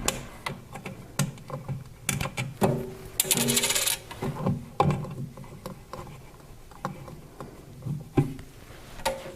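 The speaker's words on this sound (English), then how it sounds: "There are two washers. There's a metal washer and a rubber washer." Metal and rubber washers from an unscrewed knob on a Foredom dust collector clink and tap in scattered, close-up knocks, with brief metallic rattles and handling noise between them.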